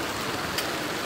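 Steady, heavy rain falls over a town centre in Custódia, in the sertão of Pernambuco, Brazil, as a dense, even hiss with one brief brighter splash.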